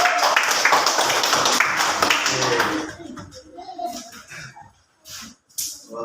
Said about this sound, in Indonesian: kelompok 4 tepuk tangan untuk kelompok 4